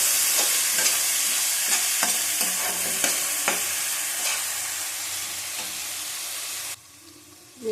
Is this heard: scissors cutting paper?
no